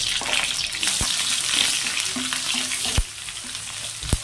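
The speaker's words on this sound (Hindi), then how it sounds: "चलाते हुए भून देंगे अच्छे से" Chopped onion and garlic cloves stir-fried in a pan for a kundru (ivy gourd) dish, loud continuous frying sizzle close up, with a few sharp spatula knocks against the pan.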